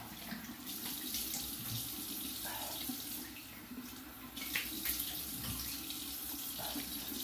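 A bathroom tap runs steadily into the sink while rinsing after a shave, a moderate continuous splashing stream with small shifts in tone as the flow is disturbed, and no talking.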